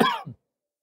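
A single short, close cough, sharp at the start with a brief second burst, then silence.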